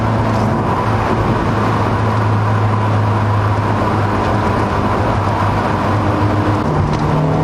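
A 2018 Honda Civic Type R accelerating at full throttle, heard as a steady, loud engine drone with road and wind noise that holds at a constant level throughout, and no talking.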